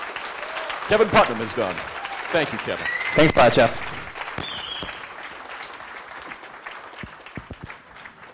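Steady crowd applause at an evening event honoring someone, sustained clapping throughout with someone speaking briefly over it early on.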